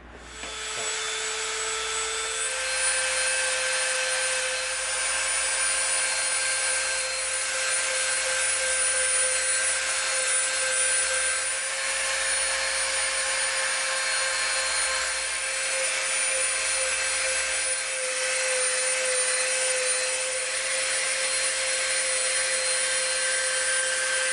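A Dremel rotary tool sands EVA foam pieces with a continuous high-pitched whine and grinding hiss, steady and fairly loud, with small shifts in pitch as the tool presses into the foam.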